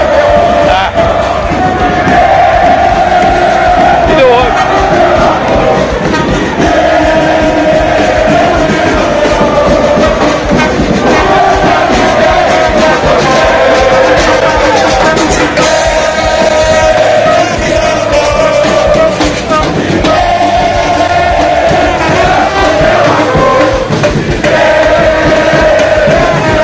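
Supporters in the stands at an amateur football quarter-final between E.C. Ribeiro Junqueira and E.C. Laranjal cheer, chant and shout together, a loud, dense, continuous roar lasting throughout with rhythmic chanting voices.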